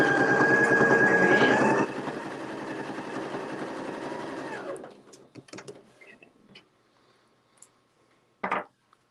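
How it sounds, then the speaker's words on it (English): A sewing machine stitches through fabric and batting with a steady, loud mechanical whir for a few seconds, then slows and stops, followed by a few faint clicks and a short final clatter. "I'm going to sew 1/2 inch inside the batting, 1/4 inch"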